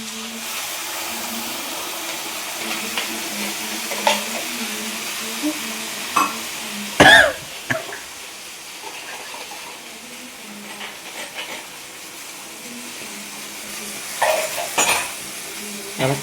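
Sauce sizzles steadily in a frying pan in a home kitchen while a spoon stirs it, scraping and knocking against the pan now and then, with a few louder clanks.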